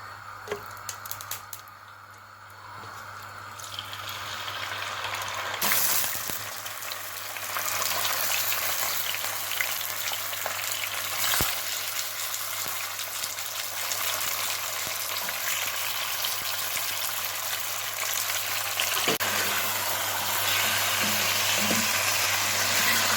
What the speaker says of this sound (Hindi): इसके साथ ही ऐड करेंगे अपना चिकन।